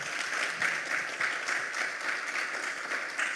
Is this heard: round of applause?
yes